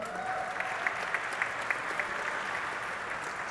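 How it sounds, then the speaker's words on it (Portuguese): Applause at a solemn session awarding the Zumbi dos Palmares diploma, a moderately distant, steady wash of clapping from the audience with a few sharper claps standing out. "Maria Cristina Ramos Silva, por favor, palmas para minha mãe."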